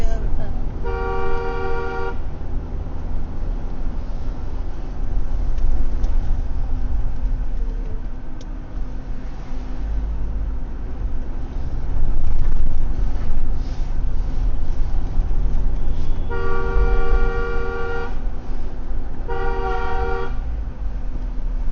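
A vehicle horn honks in harmonic blasts, one near the start and two close together near the end, over constant road rumble.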